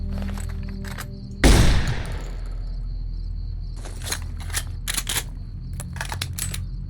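A riot shotgun firing in the video game Fallout New Vegas: one loud, sharp blast with a fading tail, followed by quieter mechanical clicks and rattles from in-game handling.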